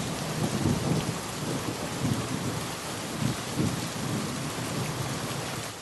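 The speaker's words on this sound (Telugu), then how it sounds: "చిన్నగా మొదలైన వాన కుంభవృష్టిగా మారింది" Heavy rain pours down steadily while low thunder rolls and rumbles repeatedly underneath, a dense continuous storm with no voices.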